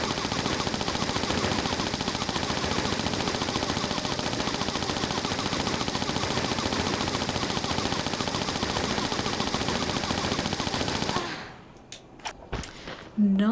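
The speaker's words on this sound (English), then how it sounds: "So let's go with the Uzis." Twin Uzis firing in a custom Tomb Raider level, Icy Paradise: a long, unbroken stream of rapid automatic gunfire at close range for about eleven seconds, then a sudden stop with a few scattered thuds.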